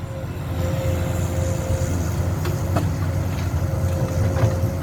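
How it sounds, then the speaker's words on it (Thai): The six-cylinder Cummins common-rail turbo diesel of a Komatsu PC200-7 excavator runs steadily at about 2,000 rpm, a loud continuous drone with a faint whine and occasional light knocks. "ตัวนี้ใส่เครื่องยนต์คอมมินนะครับหกสูบ คอมมอนเรลเทอร์โบ"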